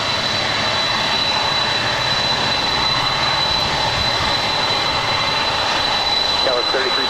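An American Airlines heavy jet landing on runway 25 left at LAX, heard as a steady broadband engine roar that fills the whole clip, with faint radio-style talk underneath.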